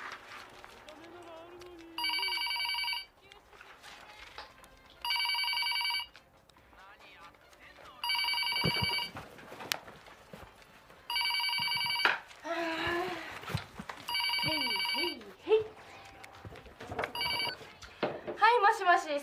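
A telephone bell rings about six times in a repeating pattern, loud and close, before the call is answered. People talk in the pauses between rings.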